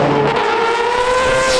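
Four-rotor Mazda Group C race car on track at Long Beach, a loud, high, sustained rotary engine wail holding a steady pitch that rises slightly, heard alone without talk.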